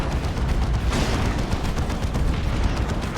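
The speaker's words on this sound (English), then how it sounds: "the regular cannons will be firing relatively soon" Cannons firing in Dawn of War 2 over a loud battle din, with dense, overlapping booms and gunfire that continue throughout.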